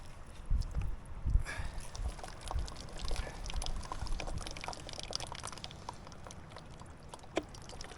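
Filtered water pouring from a Sawyer Squeeze filter outdoors on a Mount Whitney trek, a soft continuous trickle with small splashes and drips, fairly quiet against outdoor background noise.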